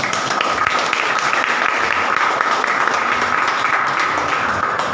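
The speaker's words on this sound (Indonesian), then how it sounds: "Saya kira tepuk tangan untuk kita." Steady applause from an audience at a school gathering in Bekasi, a dense continuous wash of many hands clapping at even loudness throughout with no talk over it.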